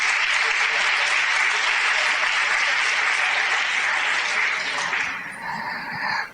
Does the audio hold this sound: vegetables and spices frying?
no